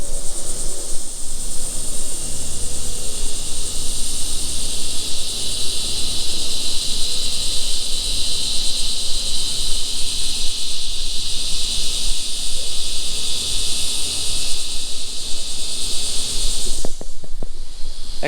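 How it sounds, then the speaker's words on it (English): Tree crickets and Florida locusts call from a tree outdoors, a steady, loud high-pitched insect drone that holds unbroken throughout with no voices. "we had the tree crickets and the Florida locust that I couldn't figure out what they were for a while? This is the first time I'm hearing them this year."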